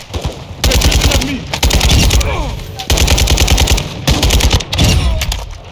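Automatic weapons fire in the Call of Duty Modern Warfare 2 DMZ game, loud sustained bursts of rapid shots broken by brief pauses, close and dominant with a voice briefly audible underneath.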